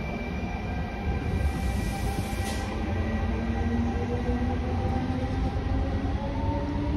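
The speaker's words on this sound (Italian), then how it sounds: "quel regionale veloce appena transitato" A regional express train runs through a station in Tuscany as a loud, steady rumble of wheels on rail, with a rising whine and a brief high hiss near the start and no talk.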